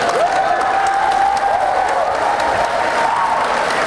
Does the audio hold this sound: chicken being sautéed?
no